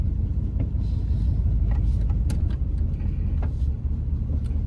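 A straight-piped 1984 Camaro Berlinetta engine runs with a loud, steady low rumble, close by and continuous, with a few faint clicks over the top.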